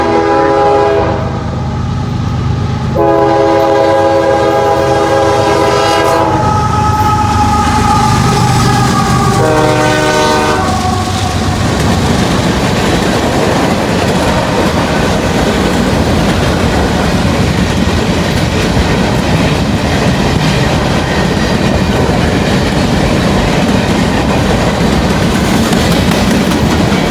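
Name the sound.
Norfolk Southern gondola train with two UP locomotives passing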